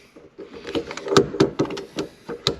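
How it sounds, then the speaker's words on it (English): Power window on a flood-damaged Honda S2000 going down, a faint series of soft clicks and knocks at irregular intervals, close and quiet with no talking. "The window's going down."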